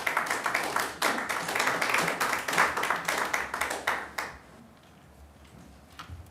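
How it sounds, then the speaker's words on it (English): An audience applauds in a council chamber after a public speaker finishes, bursts of clapping from many hands lasting about four seconds before fading to quiet room tone. "I'll ask you to hold your applause,"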